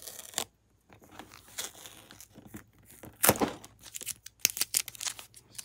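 Strong packing tape is peeled and torn off the cardboard of a Lego Super Mario Diddy Kong Mine Cart Ride expansion set box, sticking to the printed artwork, in several short ripping and crinkling bursts with quiet pauses between.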